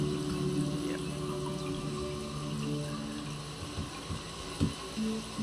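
Water sloshing and splashing as an avatar wades through water in the game Second Life, a steady low watery wash with a few louder splashes near the end, alone without talk.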